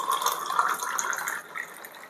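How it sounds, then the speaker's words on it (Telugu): Water poured into a glass of fresh lemon juice for a homemade lemon sherbet, a steady close trickle and splash lasting about a second and a half before thinning out. "దీంట్లోకి మనం సరిపడాన్ని వాటర్ పోసి వేసుకుందాం."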